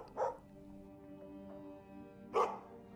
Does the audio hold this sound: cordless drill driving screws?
no